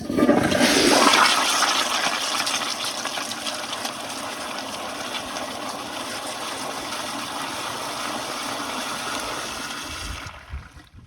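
A 2015 Kohler Highcrest toilet flushes with a strong initial gush of water that settles into a long, steady rushing and trickling refill before cutting off.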